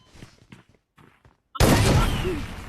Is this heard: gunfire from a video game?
yes